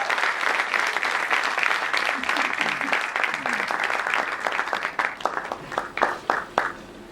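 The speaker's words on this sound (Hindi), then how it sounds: "अच्छी ताली हो जाएगी" Dense audience applause with many hands clapping at a film trailer launch in India, strong at first then thinning into scattered claps that fade out toward the end.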